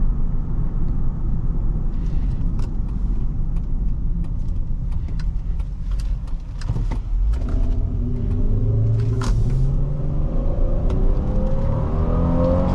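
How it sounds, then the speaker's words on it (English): A 2005 Honda Pilot EX-L's V6 engine drones steadily while driving, with rising revs and a gear shift partway through, loud and close from inside the cabin. "I love the way this V6 sounds with those like shifts"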